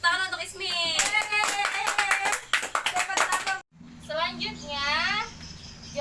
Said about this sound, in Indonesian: Tepuk tangan untuk Ismi.